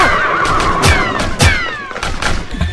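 A horse whinnies loudly and repeatedly in a Western action film, shrill descending neighs layered with thuds and hoof impacts amid a chaotic chase.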